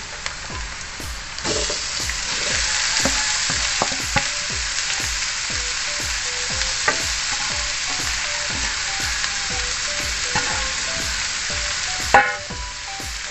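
Pork lechon sisig meat fries in a pan while being stirred steadily, with a continuous loud sizzle and rhythmic scraping strokes of the spatula throughout, no voices.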